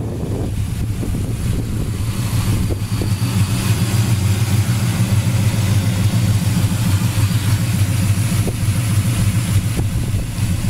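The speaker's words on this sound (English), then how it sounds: "Engine runs awesome." The fuel-injected engine of a 1969 Chevelle muscle car runs steadily at idle with a deep, constant rumble close to the microphone, under some wind-like noise, for about eleven seconds with no talking.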